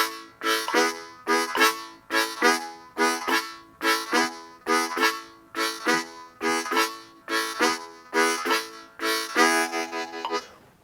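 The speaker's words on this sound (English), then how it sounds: "Let's try that with our metronome. I'm going to slow it down to 69." Harmonica draws sound in short, evenly spaced pulses, about a dozen in steady rhythm at a slow metronome tempo of 69, clear and close with no talking.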